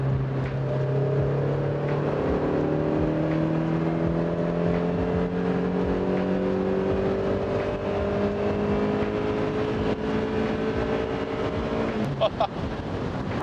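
A 110-horsepower Mazda MX-5 NB roadster accelerates through long gears, its engine note rising steadily toward about 4000 rpm, close and continuous with wind noise, then a brief clunk near the end.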